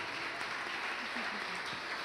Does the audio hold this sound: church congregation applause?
yes